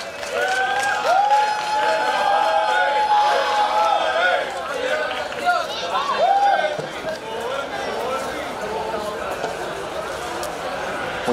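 An audience at a tuna music awards ceremony in Málaga applauds and cheers a winning student tuna group, amid crowd hubbub and whistles, with some talk and babble around the clapping.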